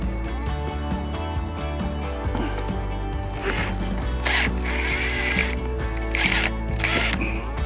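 Ratchet wrench tightening a bolt on a bird play stand, giving close bursts of quick clicking and mechanical rattling with short pauses between strokes, and no voices.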